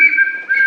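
Reconstructed ancient Peruvian wind instrument gives a steady, piercing whistle with two close tones held throughout, dipping slightly midway before swelling again, loud and alone with no voices.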